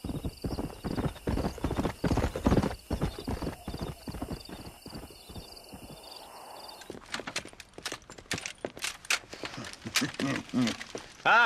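A stallion's hooves clip-clop steadily in a western film and break into a whinny, with voices speaking over the hoofbeats and a steady background tone in the first half.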